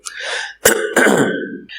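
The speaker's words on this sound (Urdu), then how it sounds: "تھوڑا سا بار بار کھانس رہا ہوں" A man's coughs and throat clearing come in several close, loud bursts, a scratchy clearing followed by harsher coughs, heard near and dry with brief gaps between them.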